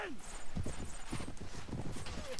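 Horse hooves clip-clop in the video game A Clash of Kings, a quick rhythmic run of close, distinct hoofbeats with a brief whinny, under a player's talk.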